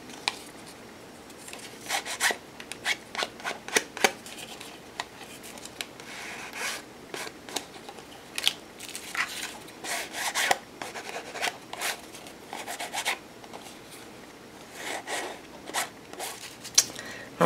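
An ink tool scrapes along the edges of art trading cards in quick, repeated rubbing strokes, close and soft, coming in irregular bursts with short pauses between cards.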